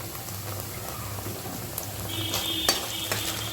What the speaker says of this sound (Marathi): मिडियम गॅसवरती आपल्याला हा कांदा छान भाजून घ्यायचा आहे